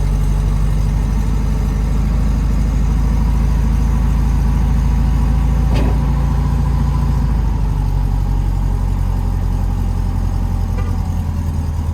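A 1953 Volkswagen Beetle Ragtop 11G Deluxe with its air-cooled engine idling steadily just after starting, a loud close low rumble with an even rhythmic putter throughout and a brief click midway.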